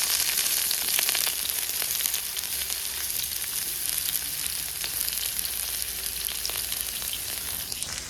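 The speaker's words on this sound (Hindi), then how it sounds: "आलू भून" Potatoes fry in a pan in a home kitchen, a continuous bright sizzle with crackling oil spits that stays even and close throughout, with no voices.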